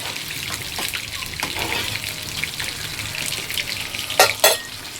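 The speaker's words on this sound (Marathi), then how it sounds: "असं मस्त आमचं चिकन फ्राय होतं." Chicken frying in mustard oil in a home kitchen, a steady hiss running throughout with a couple of sharper crackling bursts near the end, low and continuous in the background.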